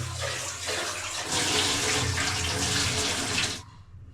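Tap water runs steadily into a sink while something is washed in a home kitchen, a continuous close splashing rush that swells slightly midway and then cuts off sharply near the end.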